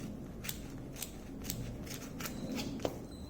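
Scissors snip through paper stickers covered in tape, giving about seven crisp, evenly spaced cuts close up in a quiet room.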